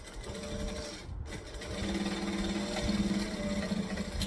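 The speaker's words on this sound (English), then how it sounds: "do a second line of top stitching, and everything's attached" A sewing machine runs a second line of top stitching on a garment, with a close, steady mechanical whir and rapid needle chatter and a brief pause near the start.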